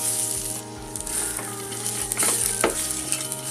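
Onions frying to a reddish brown in oil in a pan, a close, steady sizzle with a few stirring scrapes over a short stretch and no talk.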